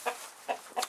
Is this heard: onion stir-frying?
no